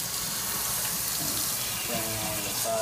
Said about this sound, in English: a faucet